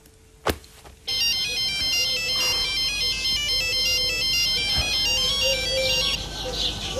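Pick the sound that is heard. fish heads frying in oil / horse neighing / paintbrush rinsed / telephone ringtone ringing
telephone ringtone ringing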